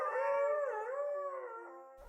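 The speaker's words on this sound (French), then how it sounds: "Les huskies aboyaient toute la soirée comme des loups derrière leur grillage." Huskies behind a fence let out a single drawn-out howl, loud and close, with the pitch wavering up and down before it trails off.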